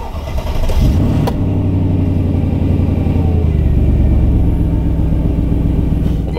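A Mercedes car engine starts with a deep low rumble and revs up, then holds a loud, steady running roar close by with no talk.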